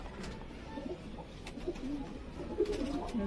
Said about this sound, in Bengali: এবার আপনাদের দাদা ধাড়ি পায়রা ব্রিডিং পেয়ার শখ করাচ্ছি।